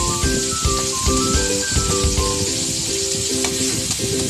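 Ginger and aromatics sizzle and fry steadily in a hot pan while browning, a continuous close crackle with faint clinks of utensils over it.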